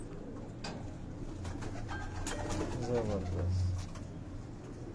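Pigeons of the Kamagar, Golden and Kasuri breeds coo on a rooftop loft, low soft cooing rising and swelling under men's conversation, with one word spoken close by.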